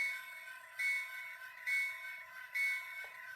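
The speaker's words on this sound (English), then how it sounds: "This is the bell." An HO scale model train locomotive's electronic bell rings in a steady, repeating pattern, with a bright metallic tone that swells at regular intervals over a constant background hum.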